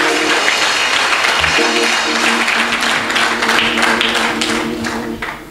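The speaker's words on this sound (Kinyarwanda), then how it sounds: "dukomere Imana amashyi" A church congregation breaks into steady, dense clapping that fills the room at close range, lasting throughout with a faint voice occasionally under it.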